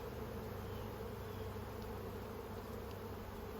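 Honeybees in an opened hive packed with nectar hum as a dense, steady drone of many wings, close and continuous throughout, with no talk.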